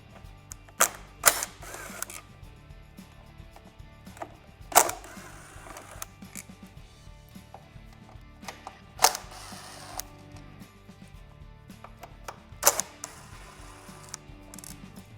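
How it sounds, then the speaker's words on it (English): A Torx T30 wrench loosening the windscreen mount bolts on a Harley-Davidson fairing gives sparse, fairly close metallic clicks and ratcheting bursts, a few sharp snaps spaced several seconds apart over a quiet background. "You'll use a Torx T30 wrench to remove these."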